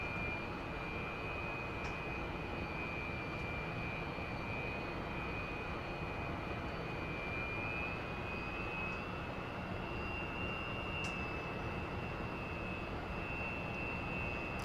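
Su-27 jet in the DCS flight simulator, flying with landing gear extended through a climb and roll: a steady, continuous jet engine roar with a faint high whine, held at a constant level throughout.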